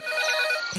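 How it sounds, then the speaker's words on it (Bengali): A cartoon telephone rings with a bright, continuous electronic trill lasting almost a second before cutting off, close and loud with nothing else over it. "এইবার আবার কে ফোন দেয়?"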